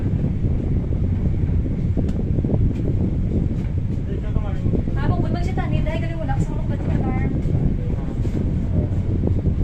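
Steady, loud wind buffeting a microphone throughout, with a person briefly talking partway through over the constant roar.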